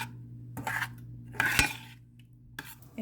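Food being stirred in a pot during Cuban-style Christmas Eve cooking, with a few separate clinks and scrapes of a utensil against the pot over a faint low hum.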